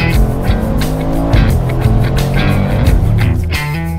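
A Mercedes AMG G63 6x6 with a 4-liter twin-turbo V8 drives through a German forest, its loud engine revving and rising in pitch through gear changes, close and continuous.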